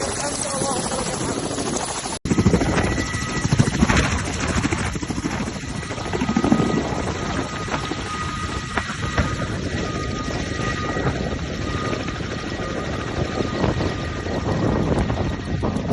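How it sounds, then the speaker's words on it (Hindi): Helicopter flown by Syrian government fighters, a steady loud rotor and turbine roar with wind buffeting that persists throughout, with one abrupt dropout near the start. "सीरिया की नई सरकार के जो लड़ाके हैं वो हेलीकॉप्टर उड़ाना सीख रहे हैं"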